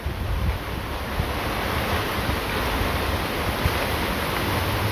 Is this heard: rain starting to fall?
yes